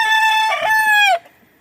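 A sweater gamecock gives one loud, close crow with a long, falling final note, then a brief cluck as it fades.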